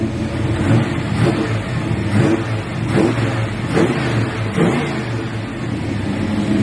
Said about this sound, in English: if I want to keep the exhaust sound the same